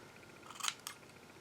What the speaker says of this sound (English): So let's cut those inside pieces.